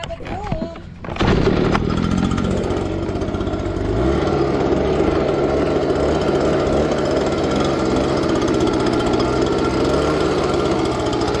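A small engine-driven blower clears corn husk debris at a corn-drying spot in the Philippines. It kicks in about a second in, then holds a loud, steady, close droning roar to the end.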